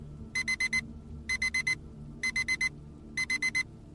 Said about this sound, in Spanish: El fuerte y rítmico sonido de la alarma rompió el silencio matutino